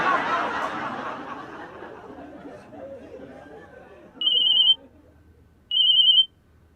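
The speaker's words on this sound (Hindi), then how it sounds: "एक मिनट, मेरा ना फोन आ रहा है, मैं आई।" Laughter and chatter fade out, then two short electronic ringtone bursts sound, evenly spaced, loud and close.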